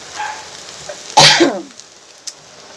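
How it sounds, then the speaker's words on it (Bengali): A single sharp, explosive cough from pungent cooking fumes bursts out close by amid quiet surroundings, followed by a faint click. "ঝাঁঝে কাশি চলে আসছে"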